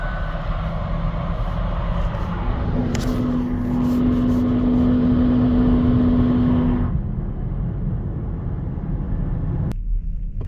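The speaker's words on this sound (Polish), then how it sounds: "auto pali gumę jak szalone i brzmi przy tym jak wściekły kot" A Kia EV3 GT-Line electric car accelerates hard on a slippery, frozen surface with its wheels spinning, giving a steady whining tone over road rumble that swells and then cuts off abruptly near the end.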